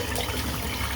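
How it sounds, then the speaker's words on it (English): Steady running water pours over a shaving brush being rinsed under a tap, a continuous close splashing rush with no talk. "I'm just going to rinse this brush out"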